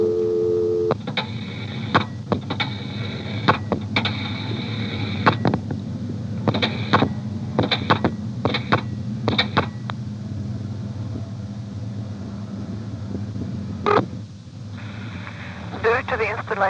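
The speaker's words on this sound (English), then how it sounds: "I'm going to dial 670, the director will then drop, and then 2111" A 1973 senderized step-by-step XY telephone exchange in Dale City, Virginia switches as a number is dialed, its relays clicking and clattering in bursts over a steady hum and dial-tone drone.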